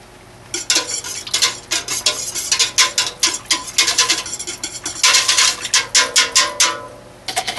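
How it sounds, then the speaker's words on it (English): A homemade soap mixture is whisked by hand in a container, giving rapid, loud rattling scrapes in quick irregular bursts that speed up and continue with only short pauses, with no talking. "so I'll whisk that in"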